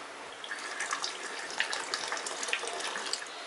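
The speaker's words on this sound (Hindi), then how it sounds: "वापस इसे बाउल में डाल देंगे और इसी तरह से हम 2 बार और इसे धो लेते हैं।" Quinoa being rinsed in a bowl of water, a steady running, splashing wash with small drips and sloshes throughout, close and fairly quiet, with no voices.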